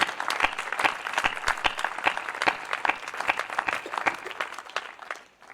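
An audience at a Hindi comic poetry recital claps in uneven, distinct hand-claps at moderate loudness, thinning out and fading at the end.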